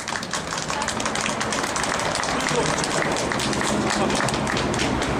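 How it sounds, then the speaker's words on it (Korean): Dense, steady applause from an audience welcoming new writers at a labor day writers' gathering, continuous and fairly loud throughout with a broad crowd wash and no break. "다시 한번 새 작가분들께 큰 박수 부탁드리겠습니다."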